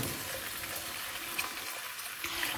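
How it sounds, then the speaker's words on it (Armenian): Cold water poured into a pot where lentil soup ingredients are frying with a bay leaf, a soft continuous sizzle and trickle, fairly quiet and steady with no talking. "մի փոքր տապակվելուց հետո ավելացնում եմ նաև ջուրը, սովորական սառը ջուր եմ ավելացնում"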